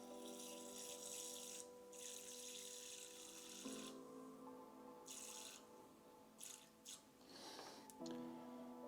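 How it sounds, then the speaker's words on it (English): Water runs steadily with a hollow, rising tone as a tarantula enclosure's water bowl fills, interrupted by brief pauses and small clinks near the end. "fill the water bowl up"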